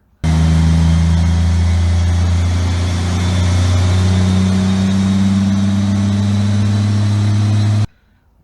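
A three-rotor rotary engine revs loudly and steadily, a dense buzzing drone held for about seven and a half seconds before cutting off abruptly.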